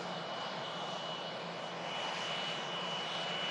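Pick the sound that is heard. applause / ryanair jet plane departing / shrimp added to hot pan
ryanair jet plane departing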